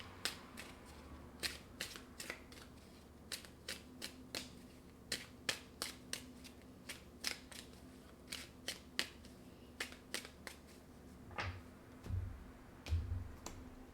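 Playing cards being shuffled and snapped during a French tarot-style card reading, with a steady run of sharp, crisp riffling clicks and slaps at close range, ending in a few duller thumps as the deck is handled.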